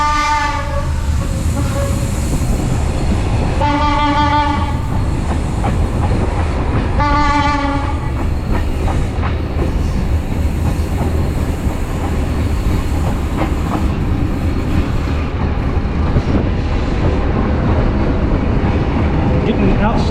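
A passenger train runs from Durres to Tirana in Albania with a steady loud rumble of wheels and carriage noise throughout, and three short horn blasts early on, heard from inside the moving carriage.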